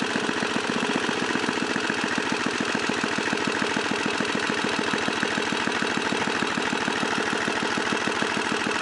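A small Tecumseh engine on a 1978 John Deere tractor runs steadily at close range, a rapid even chugging idle that holds constant without talk.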